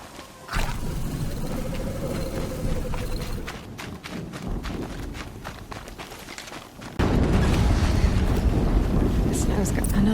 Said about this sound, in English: This now's got another explosion.